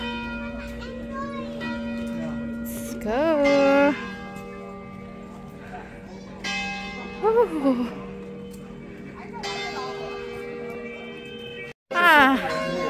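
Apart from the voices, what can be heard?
church bell ringing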